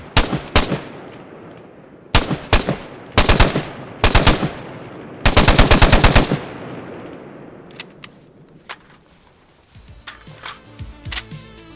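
Loud bursts of automatic fire from an H&K G3KA4 carbine, a short-stocked G3 variant, in a video game: several rapid strings of shots separated by pauses, the last long burst fading into quieter clatter and echoes.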